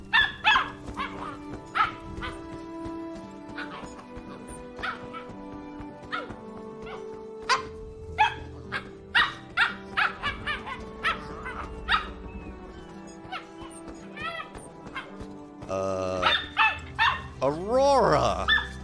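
A dog in Elder Scrolls Online barks and yips repeatedly in sharp, loud bursts over game music and sound effects, with voices speaking at times.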